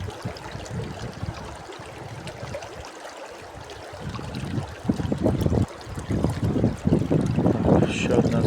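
Gusty wind roars across the microphone in a low, rumbling rush that swells louder over the last few seconds.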